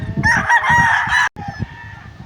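Young stag roosters crowing in hardening pens on a farm, a near, loud drawn-out crow overlapping clucks and a second fainter crow after a brief cut.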